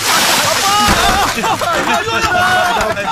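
Water is poured and splashed onto a man in a Vadivelu comedy scene, loud close splashing and sloshing under excited overlapping voices throughout.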